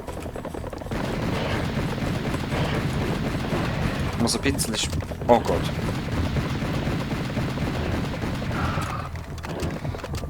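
Rapid gunfire from the shooter game Serious Sam crackles continuously through a dense, loud mix of game noise, with someone talking over it.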